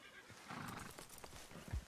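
A horse in Red Dead Redemption 2 gives a brief whinny mixed with hoof clatter and a snort, moderately close amid soft ambient game sound.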